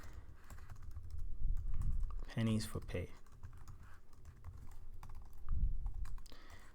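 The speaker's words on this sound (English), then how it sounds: "my typing always gets worse" Someone types on a computer keyboard while writing a Java program, with soft, rapid key clicks running steadily under quiet talk and a brief burst of louder tapping.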